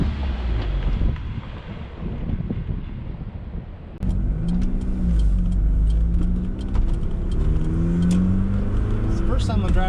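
A 1992 Eagle Talon drives along with a steady engine drone and wind buffeting the microphone from inside the cabin, the engine rising as it accelerates, while someone talks over it.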